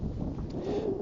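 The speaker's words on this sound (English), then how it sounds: "It's really super windy today." Strong gusts buffet a mailman's microphone outdoors on a very windy day, a loud low rumbling roar that fills the brief moment on its own.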